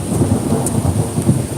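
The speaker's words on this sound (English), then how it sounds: "the storm in the background" A thunderstorm during a power outage, heard as a steady low rumble with rain hiss throughout, loud and continuous, with no voices.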